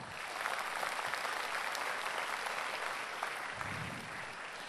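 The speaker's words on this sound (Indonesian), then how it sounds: "Berikan tepuk tangan yang meriah." Steady, enthusiastic applause from a large audience fills the whole stretch, dense and continuous.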